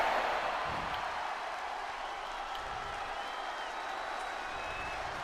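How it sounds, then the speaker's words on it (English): A wrestling arena crowd in the video game WWE 2K24 cheers and applauds as a broad, steady roar that starts loudest and then settles to a constant level. "Braun Breaker getting the crowd riled up right now."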